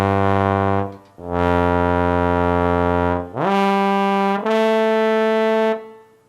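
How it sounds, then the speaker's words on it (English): Bass tuba from the SWAM virtual instrument bundle playing sustained low notes, with rich harmonics and pitch glides between phrases, loud and close, alone without talk. "That's the bass tuba."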